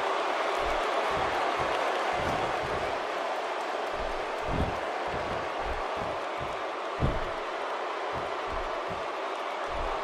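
Arena crowd noise from a WWE 2K16 SmackDown wrestling match, a steady roar of cheering throughout with scattered thumps and impacts punctuating it, loud and continuous with no talk.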